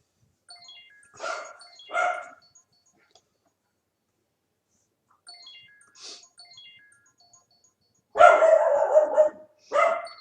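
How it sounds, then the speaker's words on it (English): A dog barks in short bursts, a couple of sharp yaps early, then a louder cluster of barks near the end, with quiet gaps between. "Do you guys hear my dog barking?"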